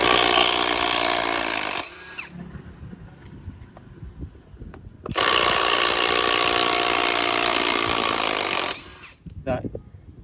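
A battery-powered drill drives a long screw in two loud, sustained whirring runs, each a few seconds long, with someone talking in the quieter gaps between them.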